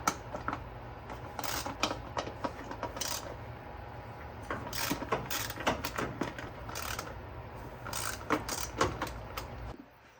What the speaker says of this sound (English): We'll be using a 8mm to take the bolts out of all four ignition coils.